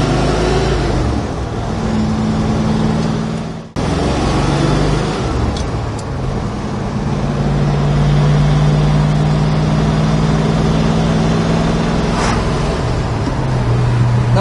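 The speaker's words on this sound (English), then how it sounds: "Nice straight running car, goes down the road straight as could be" A 1972 Plymouth Duster cruises down the road, its engine holding a steady low drone with tonal hum, briefly dipping near the start and then carrying on evenly and loud.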